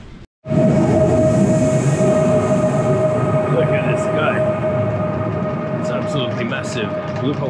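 A metro train at a Tashkent station in Uzbekistan rumbles loud and close, with a steady tonal whine, rattling wheels and faint squeals, while people talk nearby.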